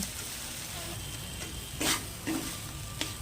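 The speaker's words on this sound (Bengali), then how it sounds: "নাড়াচাড়া করতে করতে আমি অপেক্ষা করব এটা কতক্ষণে শুকিয়ে যায়।" Onion and poppy-seed curry (posto) being stirred in a frying pan as it dries down, with a steady close sizzle broken by a few sharp scraping strokes of the spatula.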